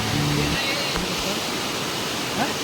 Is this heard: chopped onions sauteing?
no